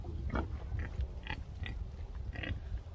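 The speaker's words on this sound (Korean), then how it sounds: "밥 달라고 꿀꿀거리네." Hungry pigs kept at a home in Senegal oink for food in a run of short, fairly faint grunts. Five or six calls are spread across a few seconds over low background rumble.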